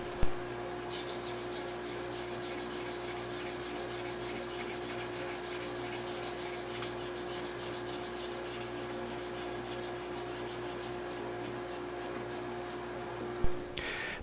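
Wood for an electric violin body is sanded by hand with 150-grit sandpaper, a steady, even scratchy rubbing that continues close up for the whole stretch, with a sharp knock at the start and near the end.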